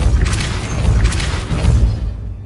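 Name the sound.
Depulso spell being cast in Hogwarts Legacy video game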